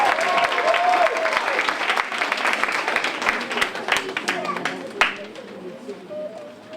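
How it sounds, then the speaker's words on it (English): Applause from a crowd at a creative arts evening after a performance, a dense wash of clapping that carries on steadily for several seconds before gradually thinning out, with some voices mixed in. "Give them a massive round of applause, guys."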